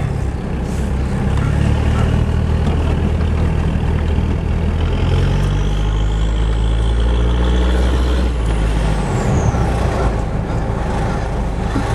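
A Toyota Hilux Surf SSR-X with a 3.0 diesel engine drives along, a loud, steady low engine drone with road and cabin noise throughout and a brief rising whine in the middle.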